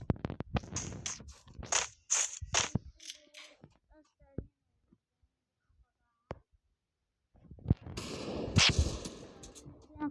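Gunfire from a shooting video game aimed at headshots, with bursts of sharp shots in the opening seconds, a quiet stretch broken by a few isolated cracks, then another dense volley near the end.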